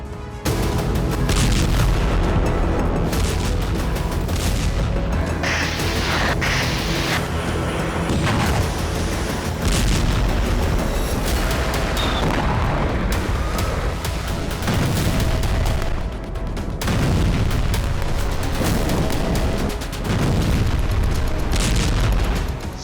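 Heavy booms and artillery blasts from fighting in Russia's Kursk region roll out one after another, loud and dense, with rumbling echoes and crackling gunfire mixed in, and no talk.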